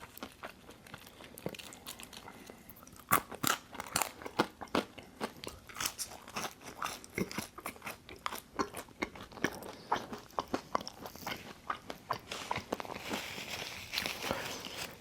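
Close, crisp crunching and chewing of McDonald's fries, with irregular bites and steady mouth sounds, rustling in the background and no speech.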